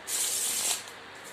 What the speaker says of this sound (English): So the deck is shuffled.